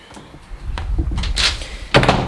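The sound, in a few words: closing a door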